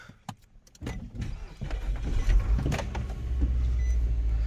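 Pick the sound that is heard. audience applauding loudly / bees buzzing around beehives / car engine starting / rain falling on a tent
car engine starting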